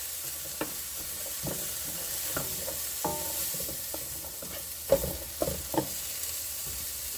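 Garden onions cooking in a pan for taco meat give a soft, steady sizzle at moderate level, broken by several sharper stirring clinks and scrapes, the loudest near the middle of the stretch, with no talking.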